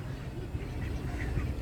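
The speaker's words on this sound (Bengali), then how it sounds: "রাজহাঁস না পাতিহাঁস, পাতিহাঁস" A domestic duck quacks faintly on a lakeside morning walk at Rabindra Sarovar, its calls soft and distant within steady low outdoor rumble.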